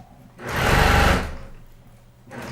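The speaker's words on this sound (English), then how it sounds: "I'm just going to sew down the sides of both of those and bring them back over so you can see them." Sewing machine stitching down the sides of quilt pieces in one quick burst of a second or so, loud and close, followed by a brief quieter restart at the end.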